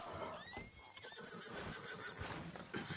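A horse in Red Dead Redemption 2 lets out a high neigh and whinny while its hooves clop nearby, all fairly quiet and brief, with no talking.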